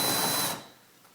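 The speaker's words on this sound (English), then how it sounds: "I got to drill this way." A power drill bores into an angled wooden stair board during a stairway renovation, a brief close whirring burst that cuts off after about half a second.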